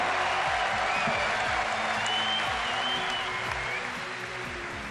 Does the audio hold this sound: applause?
yes